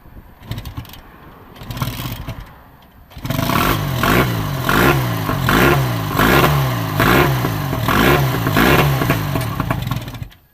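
A restored 1929 Scott Flying Squirrel Tourer motorcycle starts with a few sputters, then its engine revs loudly and rhythmically up close in repeated surging pulses as it is ridden along a lane.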